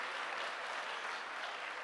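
A live audience at a talk show bursts into a short, dense wash of steady applause.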